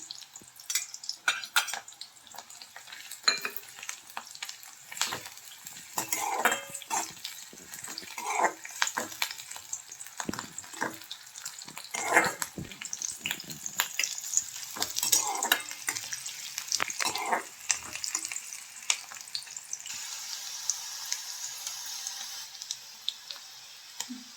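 Onion and green chilli frying in a pan for corn poha, a long, soft, crackling sizzle with scattered small pops and occasional stirring scrapes, steady and fairly close throughout.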